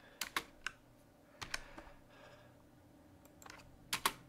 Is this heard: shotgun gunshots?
no